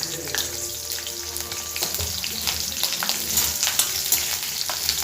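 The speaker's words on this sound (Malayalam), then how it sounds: "കുറച്ചും കൂടി എണ്ണ ഒഴിച്ചിട്ട് ഈ പച്ചമുളകും കൂടി ഒന്ന് വറുത്തെടുക്കുന്നുണ്ട്" Green chillies frying in oil for a mango pickle, a steady close sizzle and crackle with scattered spatters and faint stirring taps, no voices.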